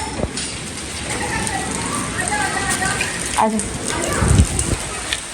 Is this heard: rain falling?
yes